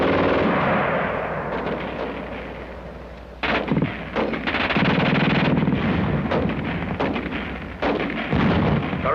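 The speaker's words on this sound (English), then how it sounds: "The German gun shoots fast." A German gun fires rapidly, the shots loud and close, forming a dense roar broken by sharp repeated cracks and bursts that continue steadily through the whole stretch.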